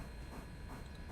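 Steam locomotive in the railway game Railroader chuffing steadily, a continuous broadband rumble with faint rhythmic pulses, moderately quiet and with no voices.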